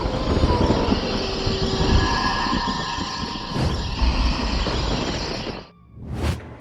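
Train rolling along rails, a loud close rumble with clattering wheels and faint squeals that fades and breaks off near the end before a brief whooshing pass, used as a sound effect in a spoken Hindi horror story.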